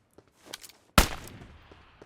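A single sharp gunshot cracks out close by in the video game PUBG Mobile, with a short echoing tail, after a few faint shuffling noises.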